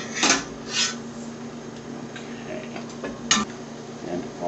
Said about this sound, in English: and then chop up the stalks